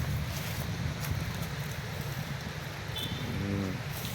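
Steady outdoor wind buffets the microphone with a continuous low rumble and hiss throughout, with faint distant sounds beneath.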